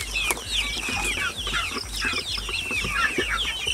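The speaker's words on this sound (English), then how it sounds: "Thought I'd come out here and hang out with the chickens" Chickens in a pen cluck steadily and overlap one another, close and moderately loud, with no talking.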